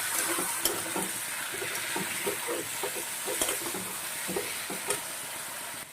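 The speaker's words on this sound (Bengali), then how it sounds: "ভালো করে ভেজে নেব" Green chilli, mustard and ginger paste with a little red chilli powder frying in oil, a steady moderate sizzle with repeated soft stirring scrapes and occasional light clinks of a spoon.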